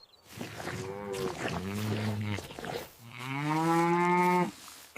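Up close on a farm, a big cow moos twice, first with a shorter uneven call and then with a longer, steadier low bellow, loud and with no talk.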